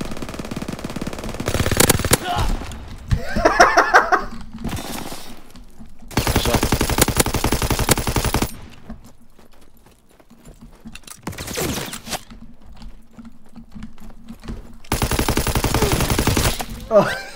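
Bursts of automatic gunfire in the World War II shooter Call of Duty WWII multiplayer, several loud rapid volleys separated by short gaps, with quieter stretches and faint voices between them.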